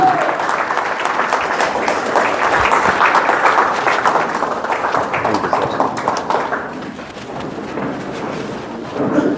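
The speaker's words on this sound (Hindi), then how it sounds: "जबरदस्त ताली होनी चाहिए सर के लिए" Applause and cheering from an audience at a network marketing direct selling meeting, welcoming a company managing director onto the stage. The clapping is loud, dense and sustained for the whole stretch, thinning slightly toward the end.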